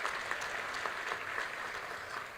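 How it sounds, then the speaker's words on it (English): Steady applause from an audience at the Football Association of Malawi awards ceremony: a continuous, even wash of clapping that holds at a moderate level throughout, with no voices heard. "Just a hand of applause."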